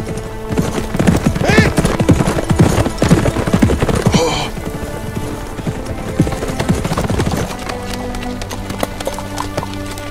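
Horses gallop through a battle scene in the Turkish historical drama Kuruluş Osman, loud close hoofbeats pounding in a rapid rhythm, with a whinny breaking through early on before the clatter eases to a quieter background.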